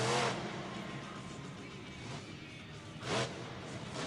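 A Backdraft monster truck of about 1,500 horsepower revs hard in a Monster Jam freestyle run at the Alamodome, San Antonio, its loud broadband roar steady throughout, with two sharper surges near the start and just past three seconds.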